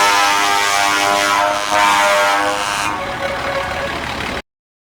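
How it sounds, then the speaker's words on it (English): A truck engine roars loud and close with a dense, buzzing drone that shifts slightly in tone before cutting off abruptly. "Truck."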